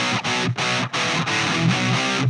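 Electric guitar chugging palm-muted chords through an Ibanez PT5 distortion with noise gate and compression: five or six tight, heavily saturated bursts separated by short gated gaps, loud and close, with no speech.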